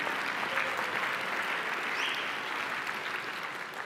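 Spontaneous audience applause in a hall at the MIT 100K business plan competition welcome, dense and continuous from a large crowd, tapering slightly toward the end.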